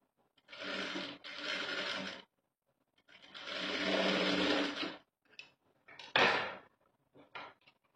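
A sewing machine stitches a blouse in short, loud bursts: two quick runs, a longer steady run, then brief choppy spurts with pauses of silence between them.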